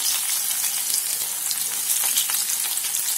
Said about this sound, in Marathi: कढईमध्ये तेल गरम करून घेतलेलं आहे। आता याच्यात आपण आपलं लसूण ठेचलेलं लसूण टाकून द्यायचं।